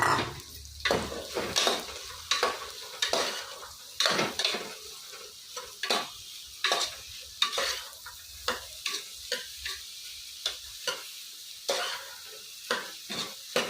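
Curry leaves and chopped bottle gourd fry in a pan for a South Indian gourd masala kootu, with a steady sizzle broken by frequent sharp clinks and scrapes of a spoon stirring against the pan, close and without talk.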